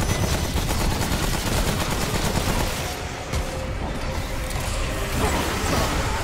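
Continuous gunfire in the video game Remnant: From the Ashes, dense rapid automatic bursts with mechanical clatter, loud and unbroken throughout.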